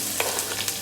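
Onions and cumin frying in a pan for a natukodi curry, giving a steady close sizzle with a few brief stirring scrapes over 1 second.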